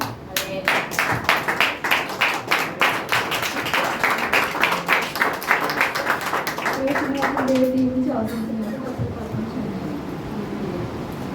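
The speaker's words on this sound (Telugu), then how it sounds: "చప్పట్లు కొట్టిన అందరూ." A church congregation claps together in loud, rhythmic bursts during a forty-day fasting prayer closing service, the clapping fading after several seconds into murmuring voices and a sustained tone.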